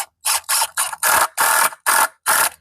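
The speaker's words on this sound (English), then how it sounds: "we're gonna sink a couple screws just into the very bottom of these here" A power drill drives screws into wood while a chicken tractor is built: eight loud, close whirring bursts in quick succession, separated by brief pauses, with no talking.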